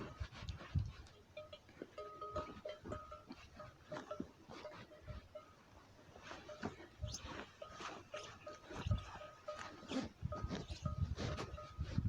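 Dogs panting rapidly outdoors among a herd of goats, with bleats rising intermittently and scattered rustles and footsteps in the background, a drone flying nearby.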